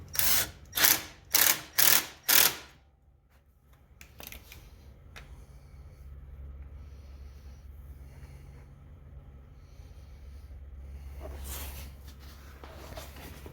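Hose clamp tightened with a ratchet while fitting a drive controller to a Ryobi 480e riding mower: five quick clicking ratchet strokes up close, then a low steady mechanical hum.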